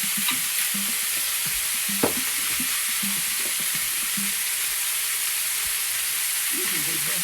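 Stuffed calamari fry in a hot pan with a steady, soft sizzle and hiss. Occasional stirring clinks and scrapes sound close by.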